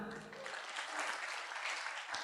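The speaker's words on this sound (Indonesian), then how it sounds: "Tepuk tangan." Steady applause from a crowd at a marketing plan presentation, a dense wash of clapping that holds at an even level for a couple of seconds.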